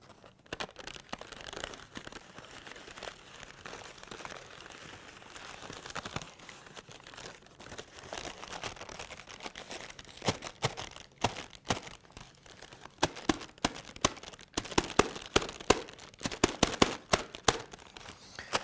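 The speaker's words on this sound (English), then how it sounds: "This is a coffee filter, paper texture. And let's see how this sounds." A paper coffee filter is crumpled and crinkled by hand for foley, giving close, dry rustling texture that grows busier and louder toward the end with sharper crackles.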